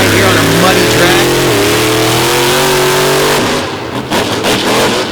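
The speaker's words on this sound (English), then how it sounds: "We're going to send Dennis Anderson's King Sling out on the track with Weston at the wheel" The Dennis Anderson King Sling monster truck on a muddy track at a monster truck show, its engine loud and close, revving up steadily for a few seconds before dropping off into rougher, uneven noise; a commentator talks throughout.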